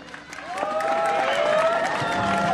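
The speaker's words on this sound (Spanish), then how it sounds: "Nomás le aplaudió por allá su familia" Sparse applause breaks out at a jaripeo rodeo in Putla, Oaxaca, with scattered clapping and some crowd voices rising over a couple of seconds.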